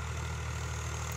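A 2020 Powertrac 439 Plus tractor pulling a 2-metre rotavator through a field gives a steady, loud low engine drone with a continuous churning hum, unbroken for the whole brief stretch.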